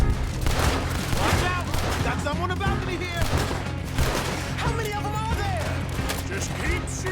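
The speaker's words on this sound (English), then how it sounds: "Just keep shooting till nothing moves." Gunfights in Red Dead Redemption 2 crackle with dense, overlapping volleys of shots at a balcony shootout, sustained bursts under frequent talk from characters throughout.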